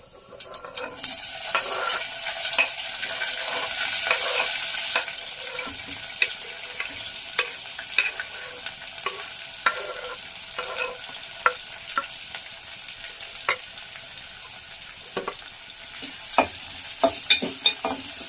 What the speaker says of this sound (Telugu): ఉల్లిపాయలు, పచ్చిమిర్చి బాగా వేగనివ్వాలి.